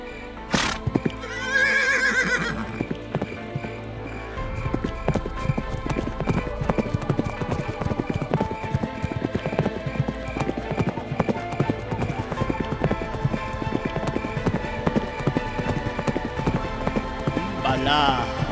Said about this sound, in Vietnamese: nào ngựa, hãy đứng dậy.